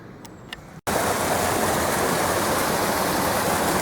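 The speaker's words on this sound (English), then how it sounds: "Nice little waterfall." A small waterfall along a UK cycling route, a loud, dense rushing roar that begins suddenly after a brief quieter moment and then continues evenly close by.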